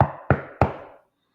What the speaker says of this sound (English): I heard a knock at the door.